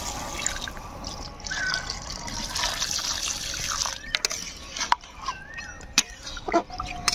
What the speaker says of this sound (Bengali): এবার দিয়ে দিব ঝোলের জন্য জল